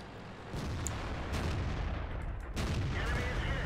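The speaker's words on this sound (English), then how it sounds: "I put a shot into the KV4" A tank gun fires at a KV4 in the World of Tanks video game, producing a sudden heavy boom that settles into a sustained rumbling roar, with another sharp shot cutting in near the end.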